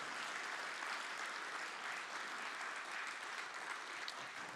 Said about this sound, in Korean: 한번 뜨거운 박수로